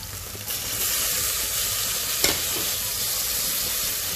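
Tomatoes sauté in a pan with ginger garlic paste while cooking cabbage, giving a steady, close hiss of frying and sizzling with one sharp crackle partway through and no talking.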